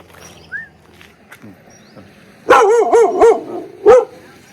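After a quiet stretch with faint scattered sounds, a nearby dog lets out a short burst of loud barks, then one more bark.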